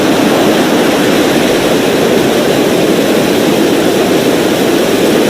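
A Falcon 9 v1.2 rocket's engines roar at liftoff, a loud, continuous broadband rumble that stays steady and unbroken throughout.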